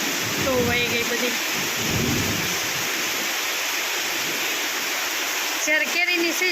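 Heavy rain drums steadily on a tin sheet roof during an unseasonal summer storm, a dense continuous hiss with rumbling, while voices talk intermittently over it.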